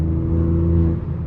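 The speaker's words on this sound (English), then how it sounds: "Oh, that thing is sounding nice. And this is inside of M1 mode as well. I'm not gonna lie, I cannot get over this exhaust." A BMW G80 M3 Competition with an aftermarket valved exhaust, running in M1 mode, gives a steady deep engine rev that holds loud and close without a pause for the whole moment.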